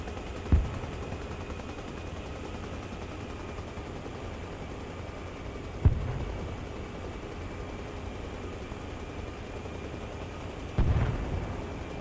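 Distant mortar fire in the Arma Reforger video game: three faint thuds spaced several seconds apart over a low steady ambient rumble.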